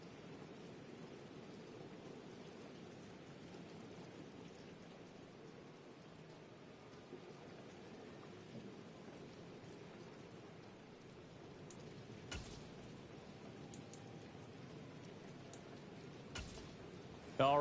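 Steady rain falling during a simulated NFL football game in Madden 23, a soft continuous hiss that runs throughout, with a couple of brief louder bursts near the end.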